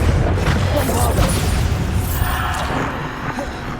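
A Bombarda blasting spell explodes in Hogwarts Legacy, a heavy booming burst with crackling debris that rolls on and then slowly fades.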